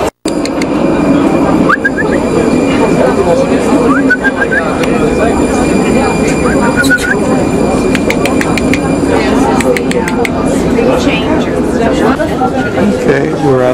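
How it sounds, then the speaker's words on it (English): Prague subway train running at 8:30, a loud steady rumble and roar of wheels and motor filling the whole stretch, with faint tonal whines and clatter on top and people talking over it. "Train now, as you can tell by the sounds."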